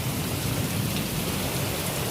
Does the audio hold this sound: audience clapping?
no